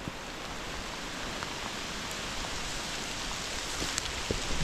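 Hail falls in a forest during a storm, making a steady dense patter with scattered sharper ticks of ice hitting leaves and branches. It is fairly faint, continuous and has no voices.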